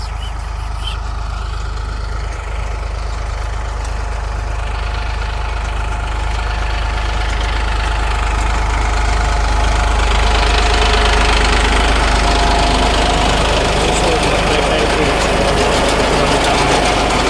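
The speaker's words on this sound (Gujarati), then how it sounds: "તો જોઈ શકો છો કે સારું ટ્રેક્ટર ચાલુ જ છે" A tractor engine drives a groundnut digging machine in a field, a loud, close, continuous low drone with a rough knocking edge that swells slightly over time.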